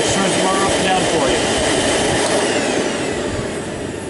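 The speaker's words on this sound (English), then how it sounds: "It turns the motor up and down for" A Miele White Pearl vacuum cleaner motor on auto suction whines steadily and loudly with a broad airy roar, slightly easing in level toward the end.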